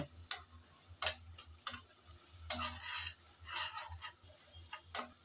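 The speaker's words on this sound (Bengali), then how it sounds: "আমি কিছুক্ষণ নেড়েচেড়ে ভালো করে মশলা কষিয়ে নিলাম।" Spices being stirred and fried in a pan for a small sea fish dish, with repeated sharp scraping strokes of a spoon against the pan over a low, steady sizzle.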